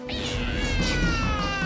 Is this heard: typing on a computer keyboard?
no